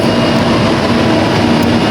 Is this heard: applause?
no